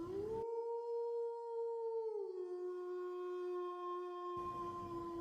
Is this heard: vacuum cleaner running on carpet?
no